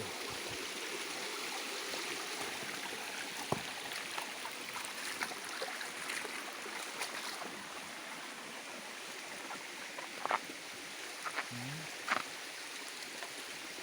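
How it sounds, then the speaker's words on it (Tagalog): A mountain stream on Miligis-Migis Mountain flows with a soft, continuous, fairly distant rushing. A few faint knocks and brief sounds stand out now and then. "Yung sapa dito"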